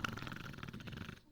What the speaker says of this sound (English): There must be something that'll put a stop to that hideous snoring.